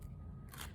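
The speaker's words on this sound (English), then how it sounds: "peel the backing off the foam tape" Foam tape backing peeled away while assembling a fold-out light-up skeleton Halloween card, a quiet short crackly rip that rises near the end, alone with no talk.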